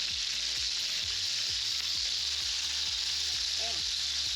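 Burgers frying in hot grease in a pan on a home stove, giving a steady, loud sizzle with faint scrapes and clicks underneath.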